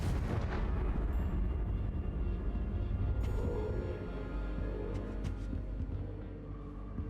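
Fiery Confringo spell explosion in Hogwarts Legacy on PC, a loud blast with rumbling, crackling bursts that fade over several seconds, no voices.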